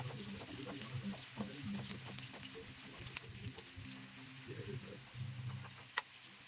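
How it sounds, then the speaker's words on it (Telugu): Thinly sliced medium onions and cardamom frying in oil give a soft, continuous sizzle with gentle stirring clicks and occasional sharper ticks, quiet and close. "సన్నగా కట్ చేసి పెట్టుకున్న మీడియం సైజ్ ఆనియన్ని ఆయిల్లో వేసుకొని గోల్డెన్ బ్రౌన్ కలర్లో వచ్చేంత వరకు ఫ్రై చేసుకోవాలి"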